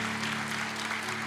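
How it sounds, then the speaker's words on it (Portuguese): Church congregation applauding, a brief, dense burst of steady clapping heard alone. "Você pode dar um aplauso ao Senhor por isso?"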